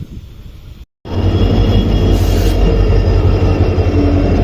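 A passenger special express train, number 06920 running Bagalkot to Hubballi, rumbles loudly close by with a heavy steady roll and a brief high squeal, following a momentary dropout at the start.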